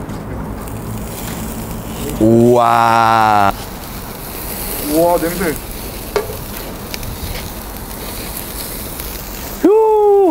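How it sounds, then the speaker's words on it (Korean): Lamb marinated with basil, rosemary, pepper and pink salt sizzles steadily on a rooftop barbecue grill. The frying hiss runs close and constant while people briefly exclaim over it. "그래서 이제 이 양고기를 구워볼 거예요."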